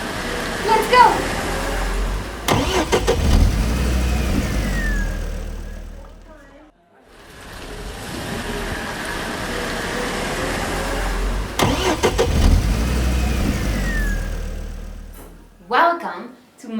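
Taxi car engine running and driving in a children's exercise setting: a steady mid-pitched engine hum with two brief breaks and some clunks, heard under lively background activity and voices.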